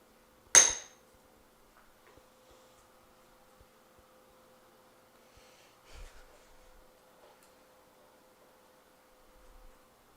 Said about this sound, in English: So you wait for the second anvil hit.